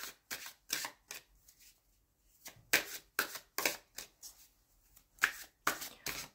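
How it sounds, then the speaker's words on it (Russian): Tarot cards are shuffled by hand in quick, crisp riffling bursts with brief pauses between them, soft and close in a quiet room. "Пока перемешиваю таро"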